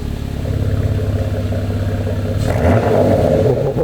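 A Porsche Macan GTS with an ArmyTrix exhaust, valve closed, idles with a low, even rumble, then rises into one short, louder rev near the end, close and alone.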